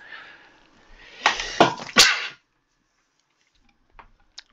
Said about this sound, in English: you have to excuse me because there's a sneeze coming up